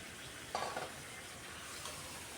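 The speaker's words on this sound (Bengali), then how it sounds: "সব চিকেনগুলো দিয়ে আরও কিছুক্ষণ মশলার সাথে কষিয়ে নেব।" Chicken fries in mustard oil with spices for a spicy chicken gravy, giving a steady close sizzle broken by a brief scrape of stirring.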